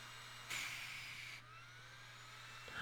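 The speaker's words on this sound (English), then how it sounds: "so these are turbo fans, not turbos, but these are also 12 volts, and we're overvolting these as well" Small overvolted 12 volt turbo blower fans spin with a faint, steady high-pitched whirring hiss that jumps louder for about a second, then settles back to a quieter drone.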